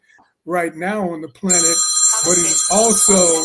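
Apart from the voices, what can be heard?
old-style phone ringing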